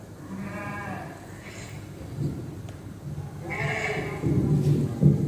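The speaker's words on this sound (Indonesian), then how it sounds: "Dia dikasih makan, domba-dombanya mau makan." Several sheep bleat nearby while they are being fed, with drawn-out calls overlapping across the clip, some closer and louder toward the end, over low background noise.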